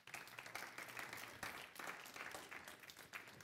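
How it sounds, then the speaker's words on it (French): A church congregation applauds at a Christian service, a dense, steady wash of clapping that fills the room throughout with no voices rising above it. "Est-ce qu'on peut applaudir simplement ça?"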